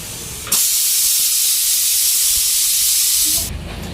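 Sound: steam hissing from a covered flour pot

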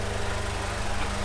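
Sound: Honda DC2 radiator cooling fan running

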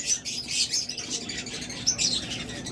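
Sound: Lutino Fischer's lovebird pair calling

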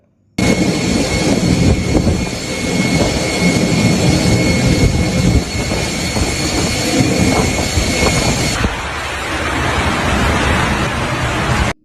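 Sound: aircraft at Dubai airport during heavy rain

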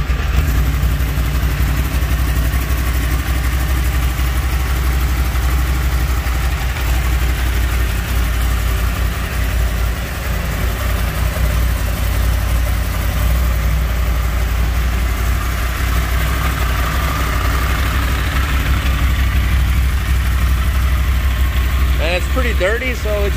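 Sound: 2012 Yamaha R1 motorcycle engine cold start idling

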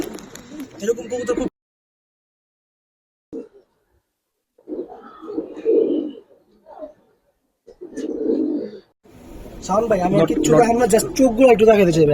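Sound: pigeon cooing

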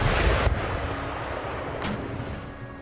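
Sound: foot artillery firing shells in video game Empire Total War

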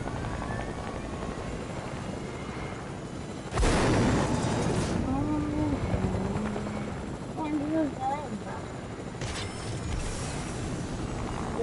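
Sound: helicopter flying in the video game Fortnite

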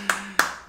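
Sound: clapping, applause

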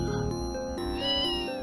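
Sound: cat meowing in video game Call of Cthulhu: Shadow of the Comet

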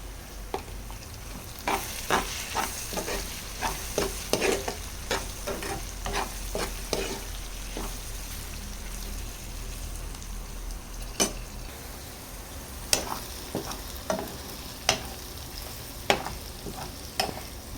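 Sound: frying ivy gourd, tomatoes and onions in a pan

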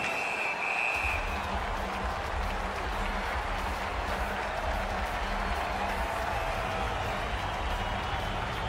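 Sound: crowd cheering in NHL 20 video game hockey arena

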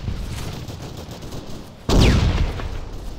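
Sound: enemy gunfire in the video game Arma 3

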